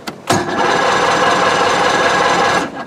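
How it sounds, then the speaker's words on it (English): An outboard motor's starter cranks it over continuously for a couple of seconds without the engine catching, a loud, even whirring grind that cuts off abruptly. "I'm gonna go ahead and crank it over again."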